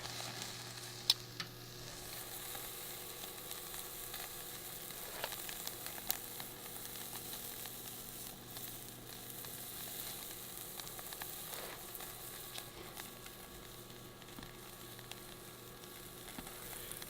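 Steak searing on a hot grill after coming off the smoker gives a faint, steady sizzle throughout, with a low hum underneath and occasional small pops.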